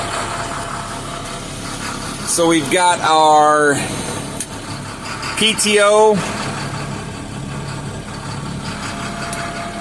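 A trash truck's engine idles roughly in the cold, a steady low rumble with someone talking over it in two brief bursts.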